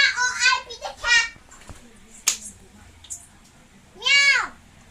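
A child imitates a cat with drawn-out meows, several close, loud calls in quick succession at the start and another near the end, with a light tap in between and children talking.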